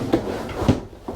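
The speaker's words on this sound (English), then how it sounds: "Can't get the drawer back in." A drawer in the workshop area of an aluminium Allures 45.9 sailing yacht is pushed toward shut, making three short wooden knocks and thumps spaced over about a second, close by and moderately loud.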